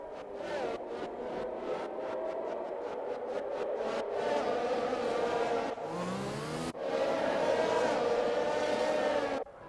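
Race cars on a formation lap at Bahrain in an Xbox racing game, engines droning and revving steadily with rapid upshifts, one car's tone sweeping past midway, loud and continuous.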